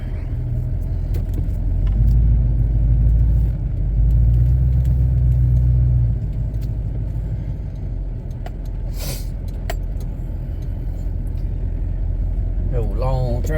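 A truck idles nearby with a loud, steady low engine rumble as it pulls up to load onto a trailer, with someone talking over it.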